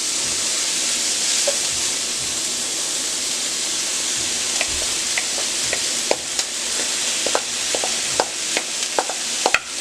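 Three cups of cold cooked rice hit a hot pan for shrimp fried rice, giving a steady loud sizzle and hiss, with scattered clicks and scrapes from stirring that grow more frequent toward the end, no voices.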